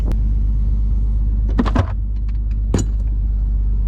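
A Mitsubishi 3000GT VR4 idles with a steady low rumble close by while driving around a yard, with a few brief metallic jingles and clicks on top.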